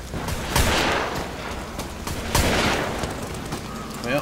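Gunfire in Amnesia: The Bunker, with two loud close shots about two seconds apart, each followed by a long noisy echoing decay, set against a low rumbling background.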